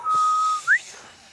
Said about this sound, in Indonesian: Bersiul membutuhkan banyak latihan.